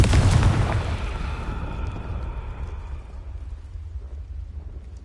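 A Confringo spell blast in Hogwarts Legacy on PS5: one loud, booming explosion at the start that rolls off into a long rumbling decay and fades under low ambient noise.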